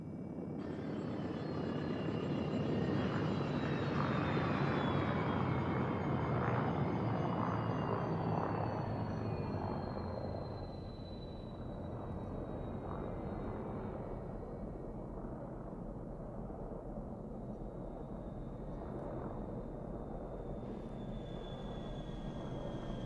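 A spaceship in Elite Dangerous sets down on a moon-like planet, its engines roaring as a loud steady drone with a high descending whine, then dropping to a quieter, lower hum as they shut down.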